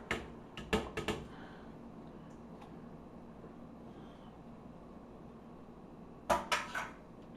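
A few sharp metallic clinks of a utensil against a pot as shrimp are stirred in boiling water, in quick bursts at the start and again near the end, over a steady low bubbling background.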